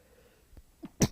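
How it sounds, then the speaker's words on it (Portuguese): A single sneeze goes off close up: two small breathy intakes followed by one sharp, loud burst at the end. "Espirrei"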